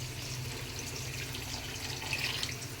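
Water streams steadily into a pot of spiced potatoes being cooked for Bengali fish curry, a continuous close pouring and splashing wash with no talk.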